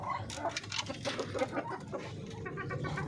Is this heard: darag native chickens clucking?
yes